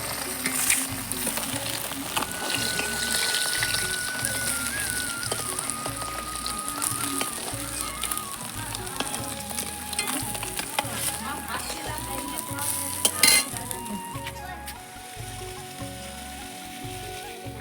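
Pieces of rohu fish fry in hot oil in a home kitchen, giving a steady, close sizzle with light crackle that runs the whole time, with occasional utensil clinks and no talk.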